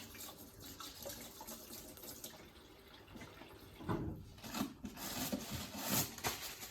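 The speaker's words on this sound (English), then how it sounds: "I'm going to wash my hands." Running tap water at a kitchen sink during hand washing while making quiche, a steady close wash that swells with louder splashing over the final few seconds.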